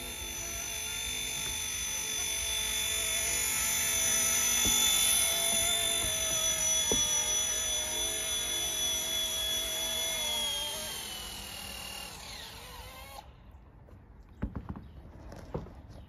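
An RC ERA C189 MD500 camo model helicopter landing, a close, loud electric rotor whine holding steady and then winding down before cutting off, followed by light handling clicks.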